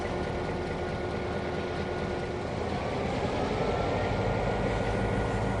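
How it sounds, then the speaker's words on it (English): A distant train moving through a yard in the Trainz 2022 railroad simulator, a steady broad rumble with a faint high squeal running throughout, heard alone without talk. "that's that other train moving out there making that noise"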